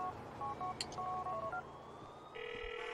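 A phone in GTA 4 dials a number, giving a quick run of short keypad tones. A steady ringback tone follows, all quiet under faint background noise.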